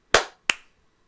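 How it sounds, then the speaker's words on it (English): Two sharp, close hand claps about a third of a second apart, each with a short decay, in an otherwise quiet room. "I got a clap on my end"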